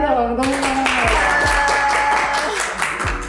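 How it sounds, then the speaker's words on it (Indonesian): A small group claps and applauds during a casual podcast chat with a university lecturer. The dense clapping starts after a moment and carries on under overlapping voices and laughter. "tepuk tangan"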